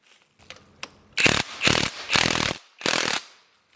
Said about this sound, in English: Use a 17mm socket to tighten the two mounting bolts of the front shock absorbers